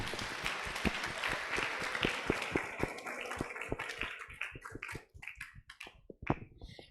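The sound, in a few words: audience applause at a seminar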